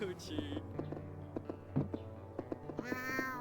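Cats meow in the video game Cat Cafe Manager, giving several short, close meows with light clicks over a steady musical background, and a longer meow near the end.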